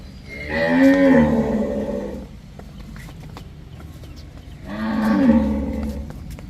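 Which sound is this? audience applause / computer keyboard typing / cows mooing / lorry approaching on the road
cows mooing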